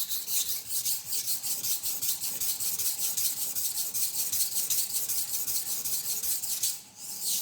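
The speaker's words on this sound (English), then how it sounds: "Let's sharpen it. 1000 grit." A steel knife blade drawn across a 1000 grit sharpening stone gives a steady, close, rhythmic rasping of back-and-forth strokes that continues almost without break, then briefly pauses near the end.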